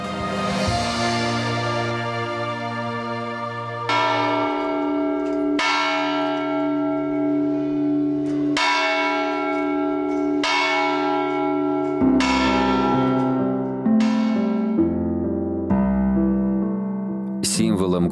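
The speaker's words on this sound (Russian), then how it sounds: "Символом города Аньоне являются колокола – отличительный признак множества колоколен, характерных для города." Church bells ringing in Agnone, Molise, Italy: a series of loud, resonant strikes every couple of seconds, each leaving a long humming decay that overlaps the next, with a voice speaking over the ringing.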